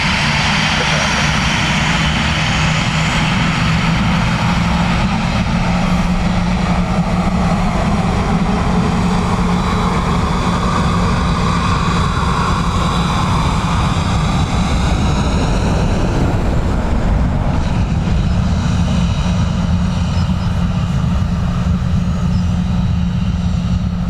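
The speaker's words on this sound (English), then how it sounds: "ATR coming in from Leeds" ATR turboprop arriving at Dublin Airport from Leeds, a sustained loud engine drone with a steady low hum and shifting propeller tones, easing somewhat toward the end.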